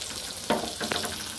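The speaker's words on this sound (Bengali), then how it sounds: "আর পটলটা বেশি কড়া করে ফ্রাই করব না, খুবই হালকা ভাবে ফ্রাইটা করব।" Pointed gourd (potol) pieces frying lightly in oil, a soft steady sizzle with two brief stirring scrapes in the pan, close and fairly quiet.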